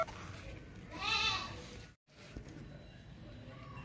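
Breeding goat for sale bleating once, a clear nearby cry over faint background murmur, followed by a brief cut and low ambient noise.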